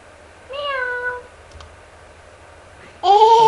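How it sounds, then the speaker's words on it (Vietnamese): A cat meows twice indoors, once near the start and once at the end, each a clear, drawn-out cry separated by quiet room noise. "Như này có con mèo ở đây nhỉ?"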